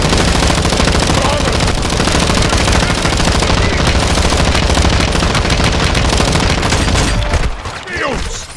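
Sustained, loud automatic machine-gun fire in a played war video scene, a dense continuous rattle of bursts that drops off abruptly near the end.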